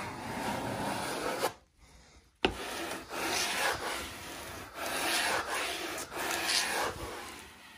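Air hissing and rubbing under detached wallpaper with an adhesion failure as the paste is pressed and smoothed, a steady close scratchy hiss in repeated strokes with a brief pause, no talking.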